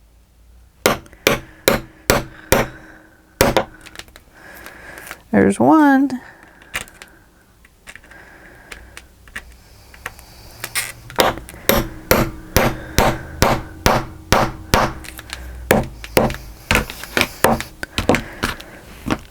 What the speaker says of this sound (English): close your ears or turn down your volume while I hammer the rivets down